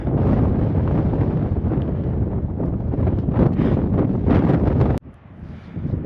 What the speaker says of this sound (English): And the wind has picked up.